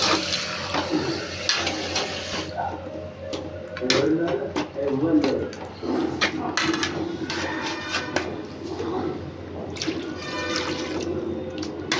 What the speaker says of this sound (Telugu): మేము వాటర్ పోస్తాం సరిపోయినాక